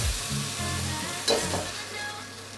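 Black pepper beef stir fry sizzling and frying in a hot pan, a steady close crackle with a brief louder burst of stirring midway, no voices.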